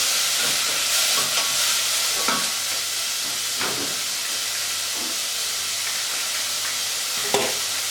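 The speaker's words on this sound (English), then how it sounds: "after my red onions have sauteed a little bit" Red onions sautéing in a pan give off a continuous bright, hissing sizzle, with a few soft clinks and scrapes from stirring heard close up.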